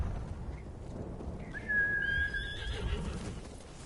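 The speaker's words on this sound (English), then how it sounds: "May as well use the horse then, if it's going to be here." A horse in the samurai video game Ghost of Tsushima gives a high, thin whinny lasting about a second, heard over a low rumbling outdoor background with no talking.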